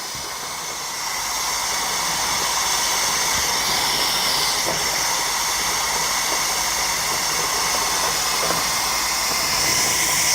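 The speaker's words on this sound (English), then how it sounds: "I'm gonna go ahead and I'm gonna put this to steam" Steady, loud broadband hiss of steam venting from a pressure canner loaded with homemade beans, swelling up after the first second and holding constant to the end with no talk.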